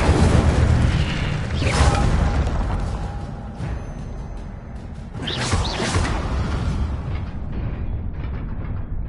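Incendio fire spell cast in Hogwarts Legacy, a roaring whoosh of flame bursting twice with rumbling low booms and swishing bursts, loud and close amid game ambience.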